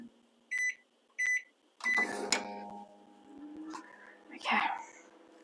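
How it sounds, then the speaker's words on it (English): A kitchen microwave oven heating butter: two short keypad beeps, a clunk, then a low steady hum that runs for a couple of seconds, with quiet voices and clatter around it. "pop the butter in the microwave for 20 seconds"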